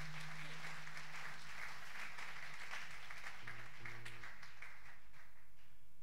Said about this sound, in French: Applaudissons la parole de Dieu.